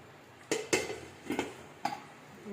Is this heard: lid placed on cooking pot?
yes